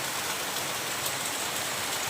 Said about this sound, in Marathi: आता सगळा पाऊस पडतोय.